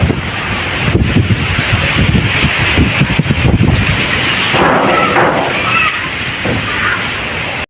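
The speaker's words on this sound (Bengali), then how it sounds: "এত হাওয়া মাঝে মাঝে তুফান বইছে" Strong stormy wind roars outdoors on a rooftop during a thunderstorm, loud continuous buffeting against the microphone with gusty surges throughout.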